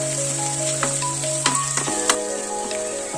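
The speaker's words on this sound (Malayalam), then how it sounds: "ഇത് നമുക്കൊരു വഴന്ന് വരുന്നവരെ നമുക്ക് നന്നായിട്ടൊന്ന് ഇളക്കി കൊടുക്കാം" Onions and green chillies sauté in a pan for a mussel roast, sizzling loudly and steadily at close range, with a few sharp spoon scrapes as they are stirred.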